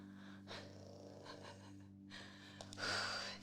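A sleeping pet snores in a quiet room, with a few soft breathy snorts and a louder, longer snore near the end over a steady low electrical hum.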